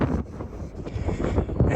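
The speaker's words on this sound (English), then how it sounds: "if you can hear the wind" Wind buffeting the microphone on an outdoor walk, a loud, low, gusty rumble that fluctuates throughout without any voices.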